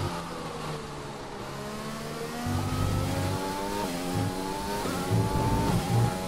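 Racing car in the F1 2020 game on soft tyres, engine howling steadily through upshifts and revving harder in the later part, with faint tyre squeal and no talk over it.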